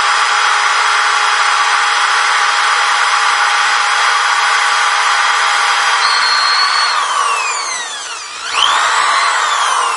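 A power drill bores into metal lubricated with a dab of cutting oil, running as a loud, steady, high-pitched whine. The pitch sags and dips near the end as the bit bogs down, then recovers. No one speaks.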